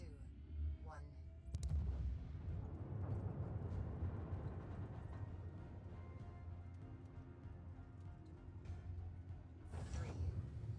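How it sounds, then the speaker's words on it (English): In the space game Void Crew, a ship's void drive engages for a jump. A heavy, sustained rumbling roar swells after a sharp burst, then ends with another surge near the close. "If you turn it on, you can go into your void drive and then shoot yourself to the destination"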